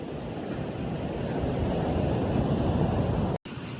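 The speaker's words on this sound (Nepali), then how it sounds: "कस्तो ठुलो पानी आयो" A big ocean wave rushing onto a beach, a loud continuous roar of surf and churning water heard close, blended with wind buffeting the microphone, with a brief dropout near the end.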